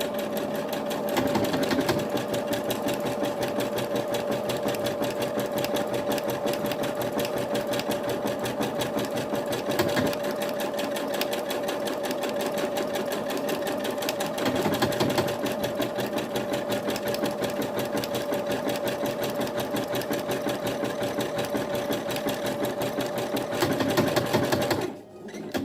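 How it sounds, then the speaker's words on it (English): A sewing machine stitching a buttonhole runs in a fast, steady mechanical whir with a constant tone and rapid needle ticking, close and continuous for about 25 seconds, with brief shifts as the stitch direction changes and a stop at the end. "So now the machine has finished the first buttonhole."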